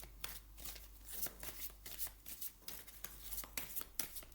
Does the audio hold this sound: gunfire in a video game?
no